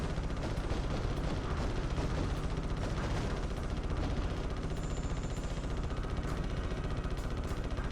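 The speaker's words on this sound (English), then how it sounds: "Ooh, missiles." Missiles firing during a Ratchet and Clank boss battle on PS2, a dense, continuous roar of launches and blasts that holds steady and loud throughout with no talk.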